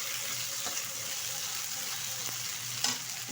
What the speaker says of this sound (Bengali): দিয়ে দেবো বেটে রাখা আদা, এক থেকে দেড় মিনিট মতো কষিয়ে নেব।